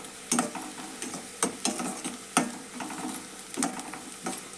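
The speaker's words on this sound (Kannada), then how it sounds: "ಎಣ್ಣೆ ಒಳಗೆ ಫ್ರೈ ಮಾಡೋಣ್ರಿ" Dal palya stirred in hot oil with masala chili powder, a soft steady sizzle broken by several sharp scraping strokes of a spoon against the pan, close and alone.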